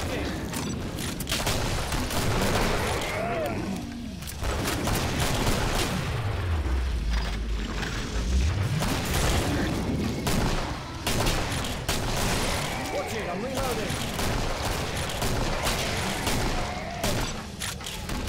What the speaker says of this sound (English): Just a constant stream of gunfire down that front corridor there.